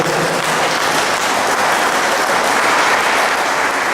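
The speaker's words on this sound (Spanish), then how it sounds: "se ve quién les aplaude cuando he hecho porras al sector Morena rucos" A large crowd at a political rally in Zapotlán el Grande applauds loudly, a thick, continuous roar of clapping that holds steady without a break.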